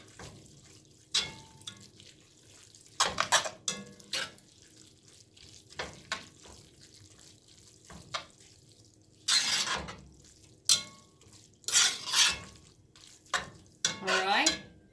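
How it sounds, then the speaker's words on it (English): Vegetable beef soup being stirred in a pot, with scattered bursts of scraping and clinking of the spoon against the metal, separated by quiet pauses, close and moderately loud. "Let's give this a good stir."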